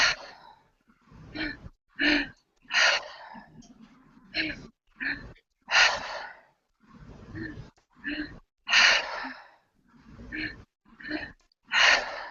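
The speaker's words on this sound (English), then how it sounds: "the first breath is into the belly, second into the heart, exhaling out of the mouth" Rhythmic breathing exercise with two inhales, one into the belly and one into the chest, then an exhale through the mouth, repeated in close, audible breath bursts at a steady pace.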